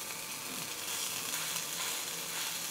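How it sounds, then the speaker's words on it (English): Thai fermented pork sausage frying in a pan, with a steady, fairly quiet hiss of sizzling fat throughout and no talk. "Just get a little bit, cook it in the pan."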